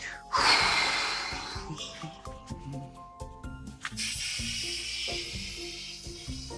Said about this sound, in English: Even your breathing's getting deeper.